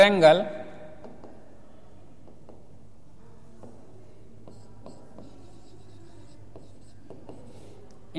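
Handwriting on a board while drawing a right-angle triangle diagram for a math lesson, faint scratchy marker or chalk strokes coming in short clusters, quiet and close, with a voice speaking at the start.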